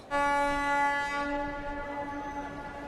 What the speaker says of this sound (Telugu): ట్రైన్ ఆగిపోయింది బాబు